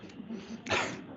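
A single short sneeze bursts out after a brief intake of breath, close and moderately loud, during a church service.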